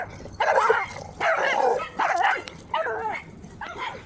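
A young puppy yaps and barks in a series of about five short, high, whiny bursts with pauses between them, close by and fairly loud.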